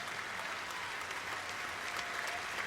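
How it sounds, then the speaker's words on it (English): Crowd at a Tampa Bay Rays spring training baseball game gives a steady, dense round of applause, a continuous wash of clapping heard from within the stands at moderate volume. "let's have a warm round of applause for Senior Airman Vander Bosch and all of our brave men and women"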